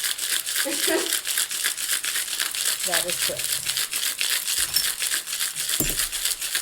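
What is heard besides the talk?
cocktail shaker shaken hard with ice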